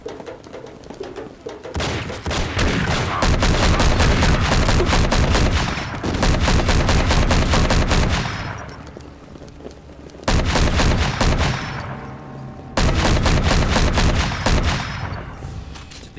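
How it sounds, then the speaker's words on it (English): Super shotgun blasts in the game Enter The Matrix: loud, rapid bursts of heavy gunfire in several long volleys separated by short pauses, with booming low-end impacts and ringing tails. "You can't deal with me and my super shotgun."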